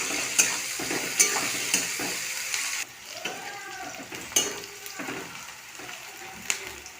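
Chopped onion frying in hot mustard oil in a wok with bay leaf, dried chilli and cumin, a steady sizzle broken by scraping stirs and occasional spoon clinks close up.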